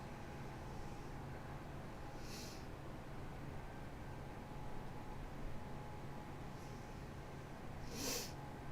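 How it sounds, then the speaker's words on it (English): Two or three short, faint sniffs break through a quiet, steady background hiss, spaced several seconds apart. "if y'all hear me sniffling"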